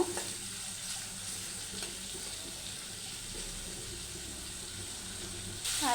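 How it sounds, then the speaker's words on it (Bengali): Chopped onion, garlic and green chilli fry in oil for a bitter gourd stir-fry, giving a steady, moderate sizzle with faint watery clatter throughout, a brighter hiss rising near the end; no talking. "এখানে পেঁয়াজ কুচিয়ে রসুন কুচিয়ে কাঁচামরিচ দিয়ে দিচ্ছি এটাকে সুন্দরভাবে ভেজে নেব"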